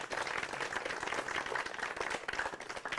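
An audience at an outdoor farmers' question forum in Baghpat, Uttar Pradesh, claps for the panel of agricultural experts, a continuous, fairly loud burst of many hands that holds steady and heard alone.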